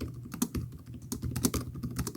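Typing on the keyboard of a 2026 Zephyrus G14 laptop, a close run of quick, light key clicks with uneven rhythm and a few firmer taps, heard alone without voices.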